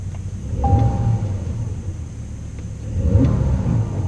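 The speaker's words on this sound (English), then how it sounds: "That's my revving" A Porsche 911 Carrera 4S (992) engine idling with a low rumble, rising twice into revs while stationary, heard from close by with a steady whine on top.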